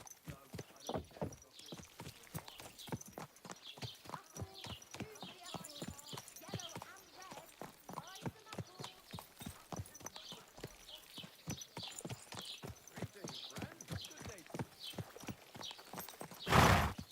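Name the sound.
horse hoofbeats from video game Kingdom Come Deliverance 2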